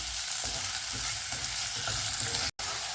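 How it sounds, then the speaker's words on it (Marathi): Onion sizzling in hot oil in a pan for clam curry, a steady close frying hiss with faint stirring, briefly cutting out near the end. "कांदा टाकून घेऊया कांद्याला एक मिनिट परतवल्यानंतर आपण ह्याच्यात खोबरं ऍड करणार"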